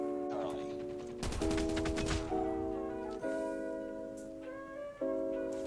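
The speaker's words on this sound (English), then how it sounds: "Anybody shooting at this dude?" In the mobile game COD Mobile, a burst of rapid gunfire rattles for about a second over steady tonal game sounds, followed by quieter game audio.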